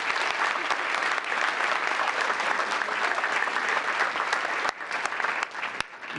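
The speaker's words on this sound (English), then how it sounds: "Let's give Group 2 a big round of applause." Audience at a town council meeting claps steadily for several seconds, a dense, loud wash of applause that thins slightly near the end.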